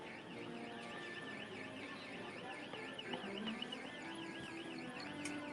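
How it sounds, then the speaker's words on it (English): An alarm sounds near the Magic Kingdom castle at Walt Disney World, a continuous warbling electronic wail rising and falling steadily at a distance under busy crowd noise. "I hear an alarm."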